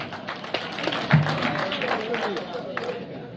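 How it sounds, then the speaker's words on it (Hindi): An audience at a Hindi poetry recital (kavi sammelan) in Sardarshahar claps in a soft, scattered patter of hands, with a person talking over the applause. "इनके लिए भी तालियां बजाओ प्लीज"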